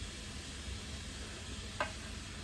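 Chicken stir-fry with rice is stirred in a hot pan, giving a steady low sizzle with a brief scrape of the utensil partway through.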